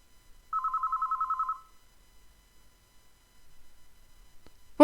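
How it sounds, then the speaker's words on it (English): Telephone ringing through an answering machine in a visual novel game: one short electronic warble ring, then quiet, ending in a brief burst of voice. "stared at the red light on the answering machine as it rang."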